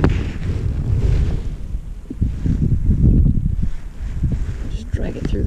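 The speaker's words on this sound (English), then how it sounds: "here comes the wind again." Gusty wind buffets the microphone on a spring fishing trip for bream and bass, a loud low rumbling roar that surges and eases throughout while someone talks over it.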